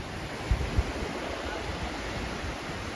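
Ocean surf rolling onto a sandy beach at Koh Chang, a steady broadband wash of breaking water with a couple of brief low thumps near the start, close and continuous with wind on the microphone.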